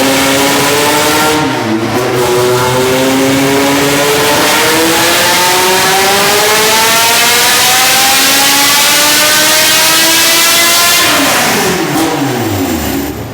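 A 400hp K-series Honda Civic engine on a dyno pull winds up steadily through a long, loud, close rising scream, peaks, then falls off sharply as the throttle closes.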